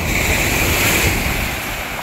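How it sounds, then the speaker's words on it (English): Waves breaking and washing on a Lake Michigan beach on a nice day, a steady broad surf roar with wind noise on the microphone, continuous and fairly loud with no voices. "The waves are doing a pretty good job of stirring everything up"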